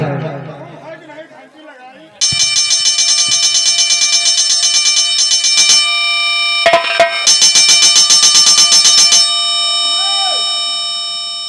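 A loud electric bell rings continuously for several seconds, breaks off briefly, then rings again, after a short stretch of talking.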